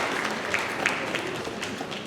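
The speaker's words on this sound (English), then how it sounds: "Please join me in a round of applause to thank your families." An audience at a National Honor Society and National Technical Honor Society induction applauds the inductees' families with a brief, steady patter of clapping from a crowd.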